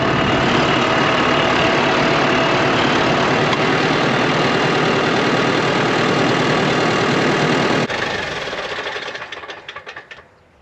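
A loud, steady diesel tractor engine rumbles at idle in a field while baling rice straw, then winds down and cuts out near the end.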